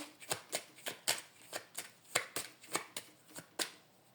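Tarot cards being shuffled and drawn by hand, a series of crisp papery riffles and slaps coming in quick irregular bursts, close and fairly quiet with no talking.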